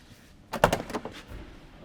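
On a 1970 Ford Falcon XY factory-built six-door wagon, car doors unlatch and open, giving a quick series of close metallic clunks and clicks in about a second, with quieter rustling after.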